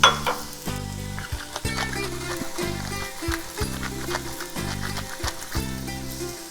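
Onions caramelizing in a pot for a Greek green bean stew, crackling with a bright continuous sizzle while a utensil stirs and scrapes in regular strokes close by.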